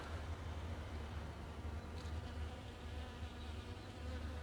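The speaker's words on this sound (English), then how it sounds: "Bees are doing their job." Bees buzz steadily around flowers, a soft continuous drone with a low hum underneath, faint and outdoors.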